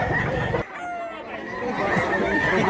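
A fighting rooster, a yellow-legged bird about a year old, clucks and crows close by amid steady yard noise. A brief muffled pause breaks the sounds partway through.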